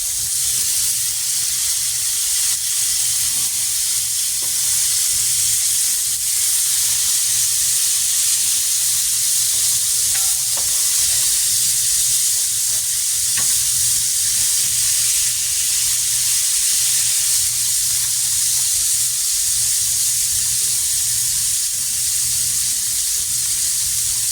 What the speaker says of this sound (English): And look at that sear.